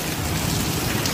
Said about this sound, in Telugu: వర్షం అనేది బాగా బీభత్సంగా ఉంది.